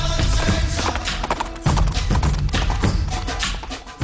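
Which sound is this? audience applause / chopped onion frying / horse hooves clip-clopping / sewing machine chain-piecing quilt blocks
horse hooves clip-clopping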